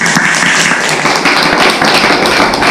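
Loud, dense applause from an audience of students, steady and continuous throughout with no pauses.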